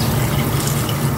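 A small splash of water poured into a cooking pan, a short, steady close-up pour of running liquid with no voices.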